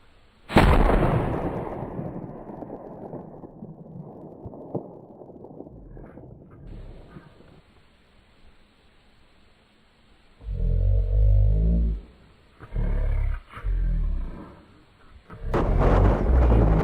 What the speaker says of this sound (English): more gunshots echo through the forest